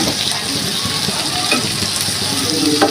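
Small-fish chorchori curry with coriander leaves cooks in a pan with a loud, continuous sizzle, joined by scraping stir sounds and occasional sharper crackles.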